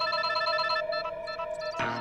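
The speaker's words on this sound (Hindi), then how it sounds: "फोन बज रहा है तुम्हारा।" A telephone rings with a repeating electronic ring tone, fairly close and clear, with no talking over it.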